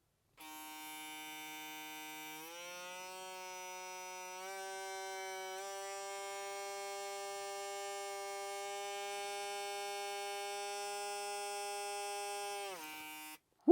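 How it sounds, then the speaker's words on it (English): A Stylecraft x 360 Jeezy hair clipper runs with a steady electric whine that steps up in pitch several times as it revs to high RPM, then winds down at the end; it is close and runs alone. "let's see how far we can rev it up with the intuitive technology and get these RPMs as high as we can"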